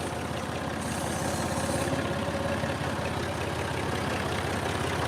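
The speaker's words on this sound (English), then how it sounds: "Old rickety tractor getting into the business of working now." An old rickety tractor engine running at a steady idle-like chug, a continuous low mechanical drone heard alone at moderate level throughout.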